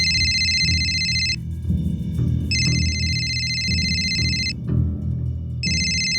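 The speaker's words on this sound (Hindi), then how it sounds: "तो उठा क्यों नहीं रही हो? किसका फोन है?" A mobile phone ringtone repeats in bursts of bright electronic tones with short gaps, sounding over a low steady background hum in a quiet home.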